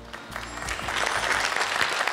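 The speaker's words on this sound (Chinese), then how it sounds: "感谢您的掌声啊" A studio audience at a televised crosstalk comedy show bursts into dense, continuous applause, loud and sustained, with a faint murmur of crowd voices underneath.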